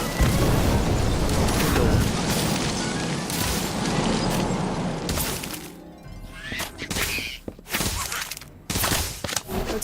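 Incendio fire spell cast in Harry Potter: Magic Awakened, a dense roaring burst of shattering, booming magic that dominates the first half, then breaks into a string of sharp crackling impacts and cracks against quieter gaps.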